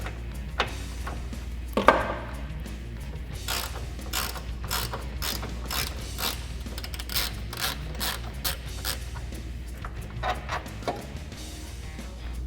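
A hand ratchet clicks steadily while loosening the 18 mm upper shock bolt on a Jeep Wrangler JL, with repeated close ratcheting strokes over a low background hum and no voices.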